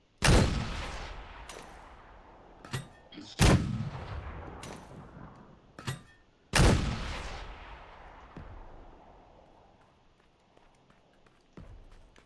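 Heavy booming gunfire in PUBG, a few loud separate blasts with long rumbling tails and lighter shots between, fading to quiet at the end.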